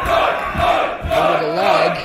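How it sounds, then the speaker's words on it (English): Wrestling crowd at a Dragon Gate UK show making loud, continuous chanting and shouting, split between two sides, with rising and falling waves throughout. "again we can hear the crowd very much split in this."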